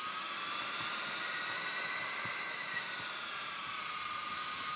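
Jet engine of a rocket car in the racing game Jet Racing Extreme, a steady, loud roaring whoosh that holds constant with no breaks throughout.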